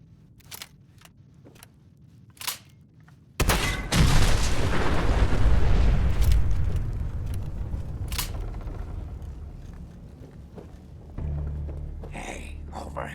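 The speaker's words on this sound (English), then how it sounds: "Looks like an explosion should do the trick." In Fallout 4, an explosion seals a hole: after a few sharp clicks, a loud blast erupts and rolls into a long fading rumble, then a lower hum settles in.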